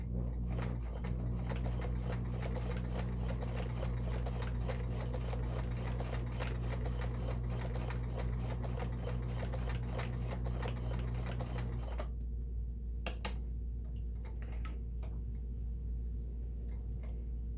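A Kenmore 1802 sewing machine sewing a stretch stitch runs steadily with rapid, even needle clatter and a low motor hum, then the pitch drops and slows as it keeps stitching toward the end.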